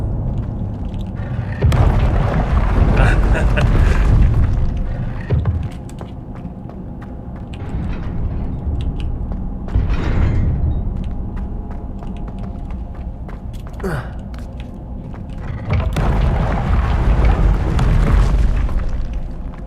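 Spellcasting in Hogwarts Legacy, including the Levioso levitation charm: several heavy booming magical bursts, each swelling and fading, separated by quieter stretches with footsteps and soft game ambience.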